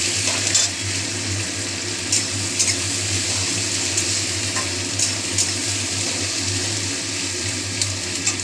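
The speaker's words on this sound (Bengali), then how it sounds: "পেঁয়াজটা ভাজা ভাজা হবে একটু।" Finely chopped onions, three of them, fry in a pan of oil with garam masala, a steady loud sizzle with occasional scraping stirs throughout, no voices.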